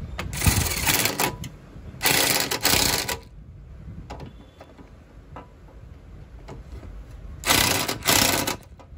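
A 13 mm bolt on the front suspension of a Suzuki Access 125 scooter is tightened in three short bursts of fast, rattling ratchet clicks, with quieter workshop handling noise between them.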